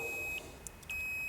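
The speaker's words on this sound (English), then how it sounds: "And when hear the meter beep again, and it no longer is an open line." A multimeter gives short electronic continuity beeps while testing a car's communication wires, a thin steady tone cut by a brief gap and quiet background.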